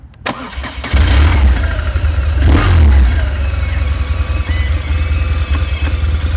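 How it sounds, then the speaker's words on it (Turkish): A 2006 BMW R1200 GS with its 1200cc boxer twin fires up and settles into a loud, steady idle close by, its deep throbbing rumble continuous to the end with no talking. "BMW GS'in 1200 cc'lik Boxer motorun şu an altındaki o harıltısını, gürültüsünü hissediyorum"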